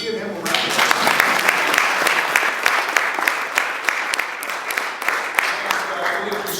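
A luncheon crowd at a community colleges chancellor's event applauds for the governor, a sustained, fairly loud wash of clapping with sharp individual claps standing out, and a voice briefly heard at the start.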